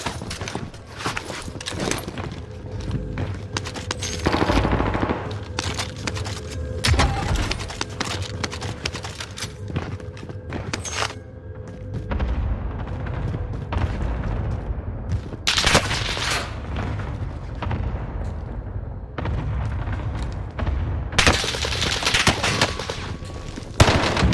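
Gunfire in Call of Duty Warzone, rapid automatic bursts and single shots that come and go in clusters over a steady low rumble of game ambience, with footsteps in between and no talk.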